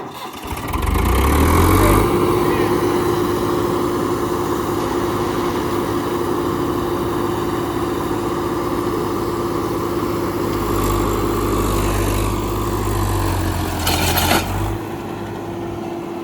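Sonalika tractor engine running close by, a steady droning hum after a brief rise, holding an even pitch before tapering near the end, with no talk.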